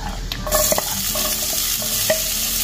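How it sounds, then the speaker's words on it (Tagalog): Garlic, onion and ginger with chili sauté in a little oil in a pan, giving a close, steady sizzle broken by scraping stirs and light clinks of a utensil against the pan; no talking. "Maggisa ulit tayo ng ating bawang, sibuyas, luya."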